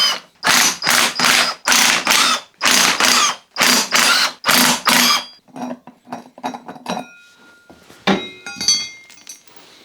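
A torque wrench ratchets in about nine loud, rhythmic bursts while tightening the sprocket bolts on a Yamaha FZ6 motorcycle. Quieter, scattered clicks and metallic clinks of tools and parts follow.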